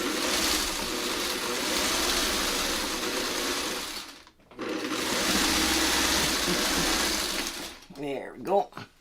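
A sewing machine stitching quilt pieces runs in a steady, loud whirring burst, stops briefly, then whirs again before winding down with a few clunks and handling noises near the end.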